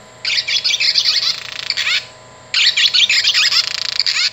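A Wild Republic Audubon barn swallow plush toy plays a recorded bird call: two loud, close bursts of rapid twittering chirps, each about two seconds long, separated by a short pause.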